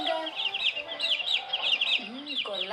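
Hen clucking in a repeated, chattering rhythm through the whole stretch, with chirpy higher calls layered on top and a couple of rising squawks near the end; fairly close and steady, no talk.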